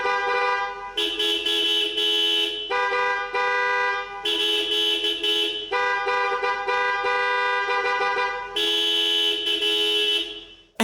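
The horn of a 1984 Mercedes-Benz 500SEC coupe blares in repeated long bursts, several seconds each with short gaps, a loud multi-tone honking that mimics a traffic jam.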